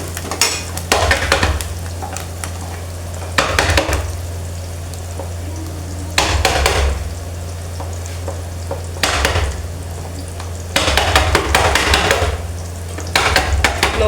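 Cumin and long-sliced onions frying in a pan over low gas, a steady sizzle broken by louder bursts of stirring and scraping at intervals, close by with no talking.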